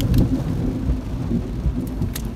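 Thunder rumbles low and heavy with steady rain during a hurricane, a continuous loud wash with a few sharper patters near the end and no talk.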